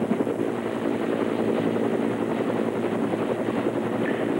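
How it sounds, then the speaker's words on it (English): A helicopter flies over Charleston during Hurricane Hugo in 1989, giving a loud, steady rotor and engine roar up close for a few seconds with no talk. "with the movement of the helicopter"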